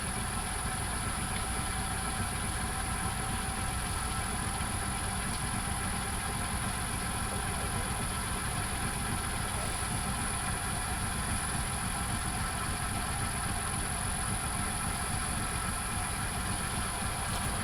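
A lathe motor runs steadily at about 300 RPM, driven by an inverter, a constant even drone with a high whine on top, unbroken and moderately loud for the whole stretch with no talking.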